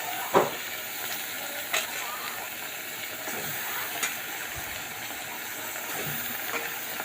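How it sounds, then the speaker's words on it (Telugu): Washed fatty mutton pieces go into a hot pot for gongura mutton and sizzle with a steady, moderate hiss, broken by a few light knocks and stirring sounds. "శుభ్రంగా కడిగి పెట్టుకున్నటువంటి మటన్ వేసేస్తున్నామండి"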